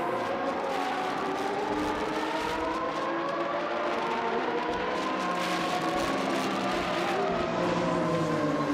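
Several race cars roar along a track in a racing video game, their engines droning and whining continuously at steady loudness with shifting pitch, with no talk over them.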